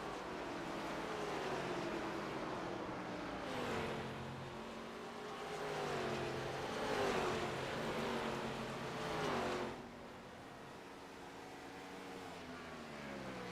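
ARCA race car engines from a racing video game drone and rise and fall in pitch as the cars run together, fairly faint and steady, then dropping away near the end.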